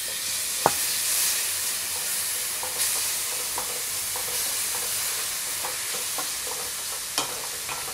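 Scallions and minced garlic fry in a pan with a constant bright sizzle and hiss, broken by a few sharp clicks of stirring, with no speech.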